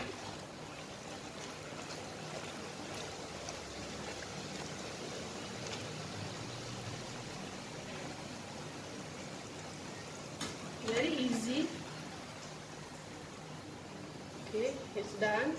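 Puri frying in oil over very low heat gives a soft, steady hiss that stays faint throughout, with a few brief clinks near the end.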